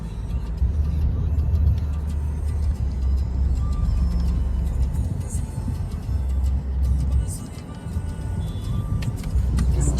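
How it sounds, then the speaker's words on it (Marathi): Low, steady rumble of idling and slowly creeping vehicles in a traffic jam on the Pune Expressway, engines droning nearby with faint background noise and no clear speech. "पुणे एक्सप्रेस वे असून सुद्धा एवढी ट्रॅफिक झाली आहे"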